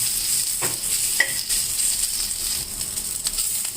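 Drumstick leaves fry in a pan for jowar roti with a close, hissing sizzle and occasional stirring clicks and scrapes, steady throughout with nobody speaking.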